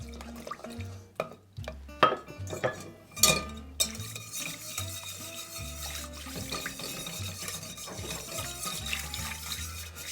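Butter mixture stirred in a pot over low heat, a spoon scraping and clinking against the metal in irregular strokes, close and fairly quiet, with a few sharper knocks early on.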